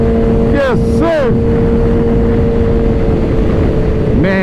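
A Suzuki Hayabusa motorcycle engine hums loudly and steadily while riding, with constant wind rush and someone talking over it.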